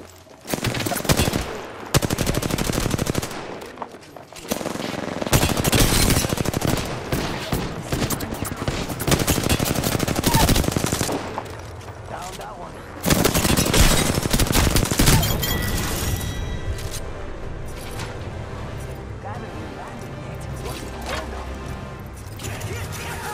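Rapid automatic gunfire rattles in dense bursts during an Apex Legends match, loud and close, with brief lulls between volleys and a quieter stretch of shots trailing off at the end.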